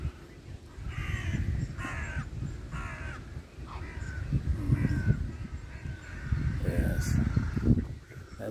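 A gull gives a series of harsh, repeated calls at a moderate distance over a low rumbling wind-like background.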